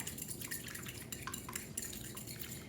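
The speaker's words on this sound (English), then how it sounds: "My 2 eggs, I'm just gonna whisk that with the fork." A fork whisks two eggs in a bowl for pancake batter, making quick, faint clinking and sloshing taps in a steady rhythm. No one speaks.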